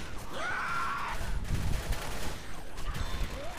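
Rapid gunfire from Left 4 Dead co-op play, a dense, steady burst of automatic shots running the whole time amid game noise.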